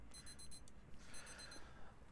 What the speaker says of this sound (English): the timer is off. It is done.